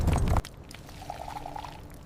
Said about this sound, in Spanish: Yo pongo una porción de polvo en agua tibia